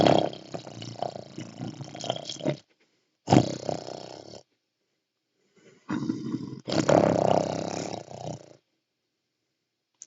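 A human voice imitates an animal growl with a deep, rough throat rumble in several bursts of varying length separated by short silences, loud and close, no other sound.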